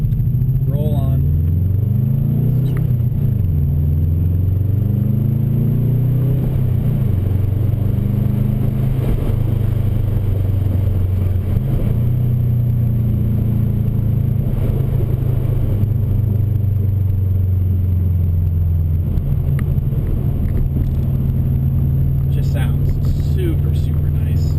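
A 2004 Subaru WRX with a stock drivetrain and an Invidia Q300 catback exhaust pulls a first-gear roll-on, its low engine drone rising steadily and loud throughout.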